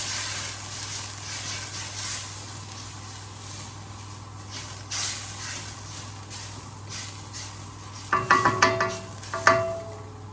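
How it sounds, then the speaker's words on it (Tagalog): Beef for Filipino bistek sizzles steadily in a hot pan with a constant frying hiss, and several sharper crackles and stirring scrapes stand out near the end. "ilagay na natin ang ating karne, yung ating beef, para ma-simmer natin siya ng maayos"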